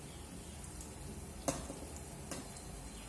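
Batter gulgule frying in hot oil, a steady close sizzle with faint scraping and a couple of sharp clinks as they are turned and stirred.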